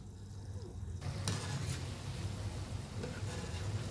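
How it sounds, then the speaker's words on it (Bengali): Gulab jamun frying in oil over a low flame, giving a steady soft sizzle with faint stirring and utensil clinks, close and continuous, with no talking. "গোলাপ জামুনটা ভাজতে গেলে আমাকে একদম অল্প সিম আঁচে ভাজতে হবে।"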